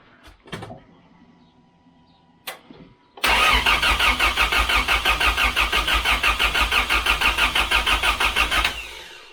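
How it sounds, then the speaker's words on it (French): A car engine is cranked by the starter with the ignition off to prime the oil, giving a steady, loud, rapid rhythmic churning after a few faint clicks and knocks, lasting several seconds before stopping abruptly. "Agathe va faire tourner le moteur pendant 5 secondes sans allumage pour amorcer l'huile."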